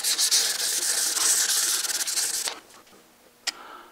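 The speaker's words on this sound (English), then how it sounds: "let's try it back with the 600 grit." An axe head being hand sanded with 600 grit sandpaper, a close, steady rapid scratchy rubbing for about two and a half seconds, then quieter faint strokes and a brief sharp scrape.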